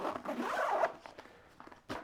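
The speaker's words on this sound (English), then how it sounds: "They are in fact YKK zippers from Japan, and they're one of the easiest zippers to actually zip, open, and close." A YKK zipper on a Gura Gear travel bag is pulled open and closed, a loud close zipping rasp for most of a second, then softer scattered slider clicks and a final short zip.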